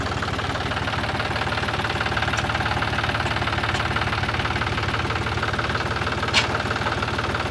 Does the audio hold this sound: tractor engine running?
yes